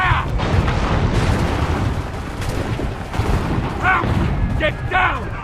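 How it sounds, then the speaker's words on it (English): Incoming enemy gunfire and cannon blasts in Assassin's Creed III, a dense battlefield barrage of booming shots and crackling musket volleys, with several sharp bursts near the end over a rumbling din. "They're firing! Incoming! Incoming fire!"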